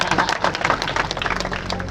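A crowd claps in dense, uneven bursts at a political rally in a small village, a continuous patter of many hands for about two seconds, fairly loud and close, with no talk over it.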